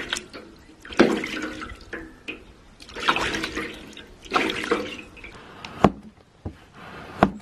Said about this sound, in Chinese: 我们用淘米水把这个腊肉洗一下